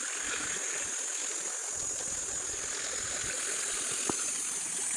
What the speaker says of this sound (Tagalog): Nandito yung ilog.